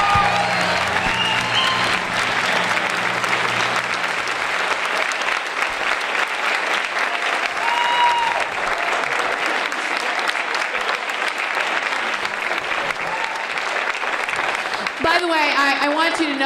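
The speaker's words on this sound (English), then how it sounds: "Let's give Guthrie a round of applause." A school spring band concert audience applauds at length, a loud sustained roar of clapping from a large crowd, with a few voices and cheers mixed in and a short whistle or tone near the end.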